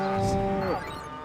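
A single loud, drawn-out cow moo from the Destroy All Humans! video game as the animal is abducted, fading into a quieter tail.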